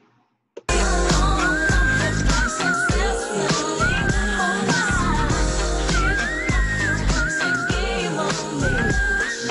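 High whistle-register vocal notes soar over a loud, dense pop-R&B backing track in a song, sliding and trilling continuously without pause.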